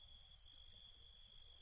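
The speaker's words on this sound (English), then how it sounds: "Cicadas chirped in the background." Cicadas in a video game, a thin continuous high-pitched drone held steady and faint in the background with no talking.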